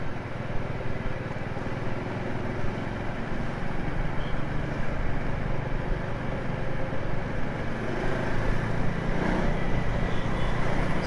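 KTM Adventure 390X motorcycle engine while riding, a steady droning engine and wind rush throughout, loud and continuous with mild throttle swells.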